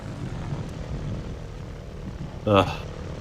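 A plane's engine in the Tintin: The Secret of the Unicorn video game drones low and steady throughout, with a brief tonal vocal burst rising over it near the end.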